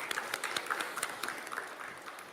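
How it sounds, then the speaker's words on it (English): Scattered, moderately distant clapping from a tech conference audience, with individual claps standing out over a thinner wash of applause. "I'd like us to give a big hand of applause to the organizers of this event"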